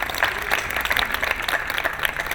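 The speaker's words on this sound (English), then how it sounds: "So a round of applause for our team" Applause rises from an audience at the Global Art Forum for the event team: close, fairly loud clapping with distinct individual claps audible within the steady patter.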